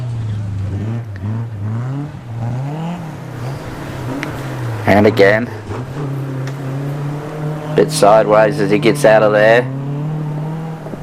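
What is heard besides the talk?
classic rally car engine revving in a rally sprint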